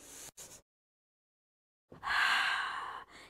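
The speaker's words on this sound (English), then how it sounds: "Deep breath in." Deep breathing during a foam roller exercise: a brief breath, then a silent pause, then a long, close, audible inhale or sigh, followed by a shorter breath.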